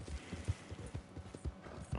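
Horse hooves clip-clop at a steady walking pace in the video game Red Dead Redemption 2, a run of soft, evenly spaced thuds close by with no talking over them.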